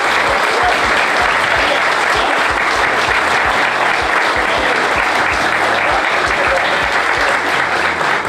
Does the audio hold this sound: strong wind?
no